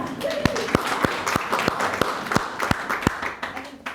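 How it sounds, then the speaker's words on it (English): A small audience at a local agriculture innovators panel claps in a sparse, steady rhythm of distinct hand claps over room murmur, with a brief voice near the start. "We can clap."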